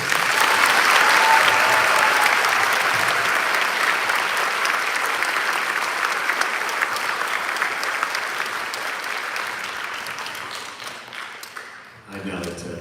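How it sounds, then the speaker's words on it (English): Parents and guests give a long round of applause at a fifth grade promotion ceremony, loud and dense at first, then gradually thinning and fading before a voice on the microphone comes back at the end. "A round of applause for 5 minutes."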